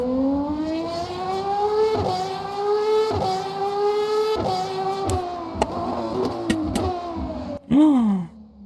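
A high-pitched race car engine in the video game Le Mans Ultimate climbs through the revs, with quick gear-shift dips along the way, then gives a sharp final roar before cutting off.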